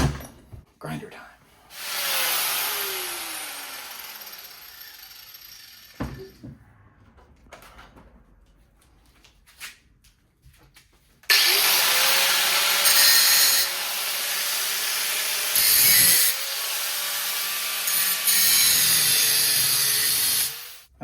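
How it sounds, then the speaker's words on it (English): An angle grinder cuts through the weld joints on a Toyota KE70 intermediate shaft. After some quieter handling noise, a loud, continuous, high-pitched grind begins abruptly about halfway through and keeps on with slight changes in pitch. "we'll maybe hit that with a grinder and see if we can't free up some of those weld joints."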